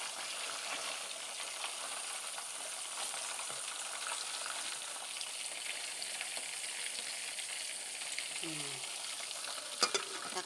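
Bangus milkfish frying in oil, a steady, soft crackling sizzle with occasional sharper spits and pops, heard close and alone.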